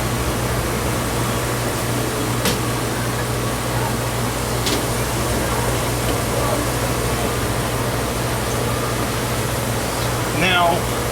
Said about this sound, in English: this washer is a bit stuffed, but this isn't the first time I've stuffed a Dexter T300